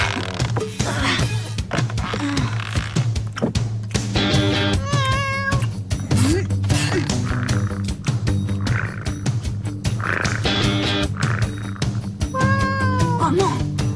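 A cartoon cat meows repeatedly over lively background music, with several clear, drawn-out mews rising above a busy musical bed.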